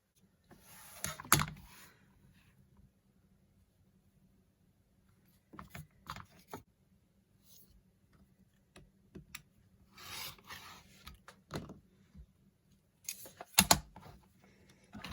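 Fabric being cut to size for elastic headbands, heard as several short, dry rasping bursts separated by quiet pauses, close up and fairly soft, with no talking.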